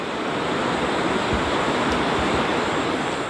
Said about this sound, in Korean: 왼쪽에선 칠선계곡 물소리가 동행한다.